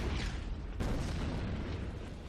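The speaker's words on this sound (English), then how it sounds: "Let's bomb this guy." A muffled bomb explosion in a video game: one soft boom erupts partway through, set against a low, steady background rumble at quiet level.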